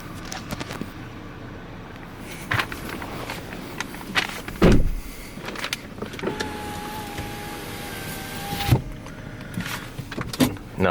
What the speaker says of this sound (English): Right there, you can actually fold the mirrors in.